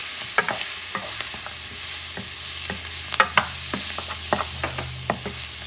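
A spoon stirs a thick barley and rib stew, freshly thickened with flour, in a pot over a quiet simmering hiss, with soft irregular scrapes and knocks against the pot's sides.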